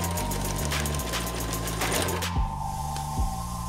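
A sewing machine stitches a seam on a costume, its needle hammering in a fast, steady rhythm. The motor slows and pulses near the end.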